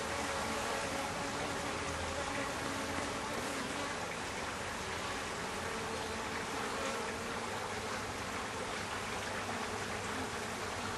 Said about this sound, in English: I can hear the hive getting really pissed off. The buzzing has increased dramatically.